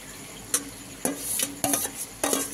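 Eggplant pieces go one by one into boiling curry gravy, each drop landing as a distinct splash and sizzle about every half second, four in all, over a low simmering bubble, close up with no talking.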